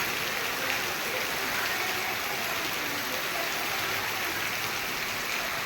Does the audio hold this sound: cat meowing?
no